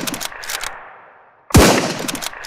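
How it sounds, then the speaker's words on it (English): Loud rifle gunfire from the video game SurrounDead: a burst of shots fades into a short lull, then another sharp blast with a rapid string of shots follows, close and punchy. "I gotta take the guy out with the rifle first"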